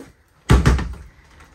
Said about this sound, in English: so this door closes the toilet area, but actually if you swing it open this way, you can actually latch it here